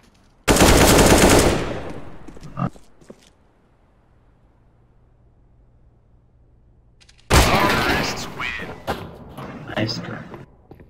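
Automatic rifle fire in CS:GO on the Mirage map: two loud, dense bursts, one at the start and a longer one later, separated by a near-silent stretch with a soft hum.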